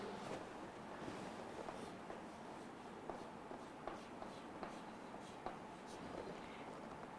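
Chalk or marker scratching out a chemical formula on a board, a faint, steady run of short strokes and taps against a breezy background hiss.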